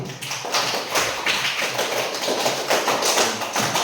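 Classroom applause for the first student group, a dense, steady patter of many hands clapping together for several seconds, fairly close and without talk.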